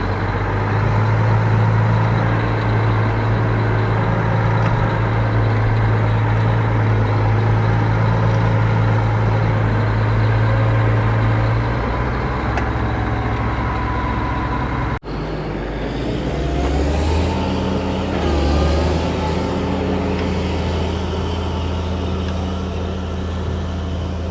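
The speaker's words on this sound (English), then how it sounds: "we got a truck bringing a load of gravel here in a minute, and he's gonna dump it like right where this pan's sitting" A truck rolls in to deliver a load of gravel beside a pond. Its heavy engine drones steadily and close by, then the pitch shifts and wavers partway through as it maneuvers, with no voices.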